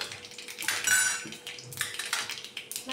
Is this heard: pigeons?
no